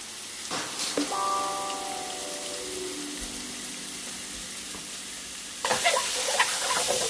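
Plenty of garlic fries in oil in a pan, giving a steady moderate sizzle. A brief tonal sound rings out early, and the sizzle grows louder and crackly toward the end.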